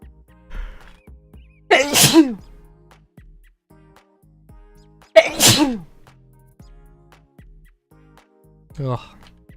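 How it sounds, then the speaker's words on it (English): A person sneezes twice, loud and close, a few seconds apart, followed by a shorter throat sound; faint clicks and quiet background noise fill the gaps. "I'm gonna sneeze here in a second."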